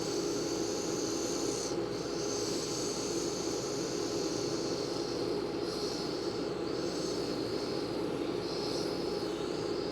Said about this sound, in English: with some sanding that should do us.